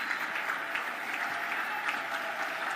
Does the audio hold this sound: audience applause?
yes